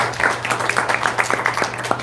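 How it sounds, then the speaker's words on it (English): Audience applause at a community meeting as a presenter is introduced, a steady spread of many hands clapping, moderately loud, with a low steady hum underneath. "round of applause to Mayra, please"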